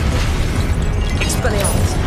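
Depulso spell in the Hogwarts Legacy video game during a Forbidden Forest fight: a loud booming blast with rumbling low end and a short whooshing swish, amid busy combat noise.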